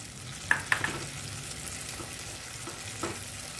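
Cashew and onion gravy sautéing in a pan over a slow flame, giving a soft, steady sizzle with a few brief scraping stir clicks near the start and again toward the end.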